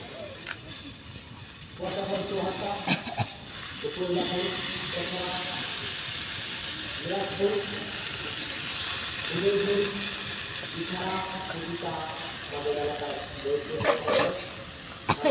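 Washed bean seeds fry in a hot wok (kadai), giving a steady loud sizzle and hiss that runs throughout, with a voice speaking intermittently over it.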